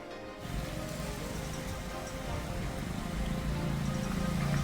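Steady, heavy monsoon rain falls across an area of Uttar Pradesh, a dense, even hiss of drops pattering on surfaces that swells slightly in intensity, with no voices over it.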